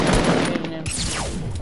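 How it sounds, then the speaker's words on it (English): Semi-automatic sniper rifle fire in a first-person shooter game, a loud sharp crack followed by a second shot and a fading whine, close and forceful. "How did you get a semi-auto sniper already?"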